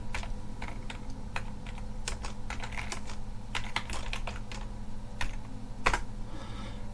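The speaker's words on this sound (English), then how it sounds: "we get a prompt, and so we can type a message" Typing an SMS message on a computer keyboard at a desk beside a GSM module: a steady run of close, crisp key clicks with uneven rhythm, alone without talk.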